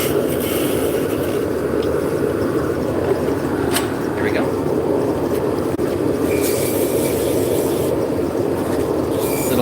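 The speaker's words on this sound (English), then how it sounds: "Sanding operation." A wooden spindle turning on a lathe is sanded, producing a continuous loud whirring rush with a steady rasping texture that runs unbroken the entire time, with no speech.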